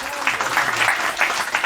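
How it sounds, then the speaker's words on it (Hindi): Crowd clapping at a Hindi devotional talk on Ekadashi in India, a steady burst of applause from many hands with a faint voice underneath. "इसलिए आप लोग जोरदार से एक ताली लगाइए हमारे धर्मेंद्र भाई के लिए"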